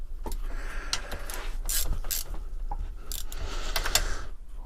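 Hand ratchet clicking in quick bursts while tightening bolts on a Mitsubishi FTO manual gearbox casing, close and fairly steady with some metallic clinks.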